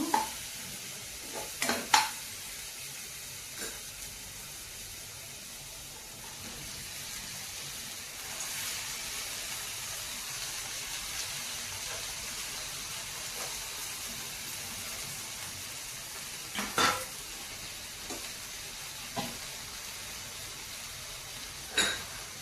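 Amaranth leaves fry in a pan with a soft, continuous sizzle and hiss, broken by occasional sharp scrapes and clacks of a spoon stirring, fairly close and quiet overall.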